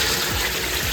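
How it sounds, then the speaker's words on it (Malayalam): Water gushes loudly and continuously as a traditional Japanese toilet in a dormitory is flushed, a close, steady rushing flow with no voices. "ഇത് ഫ്ലഷ് ചെയ്യുമ്പോൾ"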